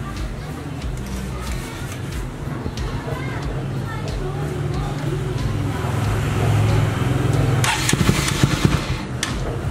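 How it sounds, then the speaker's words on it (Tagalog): A Bajaj Rouser NS200 motorcycle with an untuned carburetor cranks and struggles to start, a close mechanical churning and uneven engine sputter that swells near the end, with talk alongside. "Ganyan ang mangyayari guys pag hindi nakatono yung ano, carburetor niya. Hard starting."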